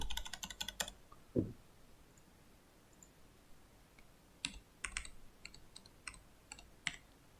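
A computer keyboard being typed on while working in InDesign, with a quick burst of close key clicks, then scattered separate keystrokes and clicks at an uneven rhythm. The sound is fairly faint and there is no talking.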